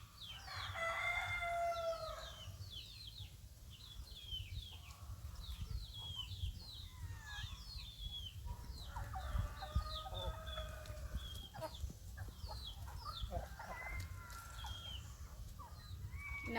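A flock of chickens clucks and chatters over a low background hum, with a rooster crowing near the start, all at moderate distance.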